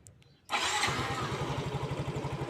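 A fuel-injected Yamaha Mio 125 scooter engine, which has a fault with its throttle response, cranks and catches after a quiet moment, then settles into a steady, close, pulsing idle with no talking.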